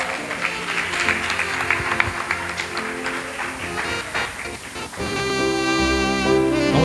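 A church congregation claps together during an evening worship service, with loud, dense applause for several seconds before sustained instrumental music swells in and carries on.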